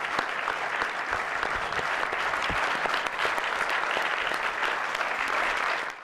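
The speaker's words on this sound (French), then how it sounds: "Je vous demande d'applaudir et d'accueillir Monsieur Lucas Belvaux." Audience applause at a film festival: a dense, sustained clapping from a full hall, steady and fairly close, tapering off at the end.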